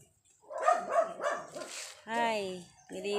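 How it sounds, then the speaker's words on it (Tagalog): A dog barks a few times nearby, sharp yaps alongside people talking, with a higher whining note near the end. "Ingay ng aso ah"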